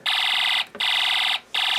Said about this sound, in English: our music IC is acting as the trigger for this PNP transistor to activate our alarm IC